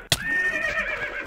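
A skeleton horse in the video game Minecraft lets out a single drawn-out whinny, a wavering tonal cry that follows a brief sharp thump and fades over about a second, heard alone without talk.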